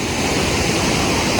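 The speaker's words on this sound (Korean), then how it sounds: "물소리 웅장합니다" A powerful waterfall in Ireland roars as a continuous, loud, dense wash of crashing water that fills the scene without any break.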